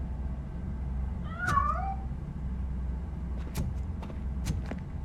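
A cat meows in RoboCop Rogue City, one clear rising-and-falling meow with a second fainter call later, over a steady low engine-like rumble and a few brief clicks.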